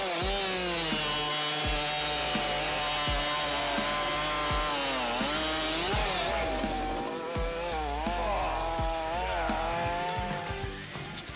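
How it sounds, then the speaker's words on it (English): A large chainsaw such as a Husqvarna 592 XP or Stihl MS500i cuts dry wood, its engine whining steadily with pitch rising and dipping under load and sharp clatters between revs, close and unaccompanied by voices. "The Husqvarna 592 XP and the Stihl MS500i are two giants in the chainsaw world"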